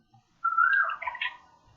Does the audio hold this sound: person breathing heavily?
no